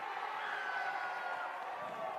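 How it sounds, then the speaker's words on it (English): A steady, full roar rises from the crowd at an under-18s football grand final night match, broad and sustained from start to end. "The roar from the crowd"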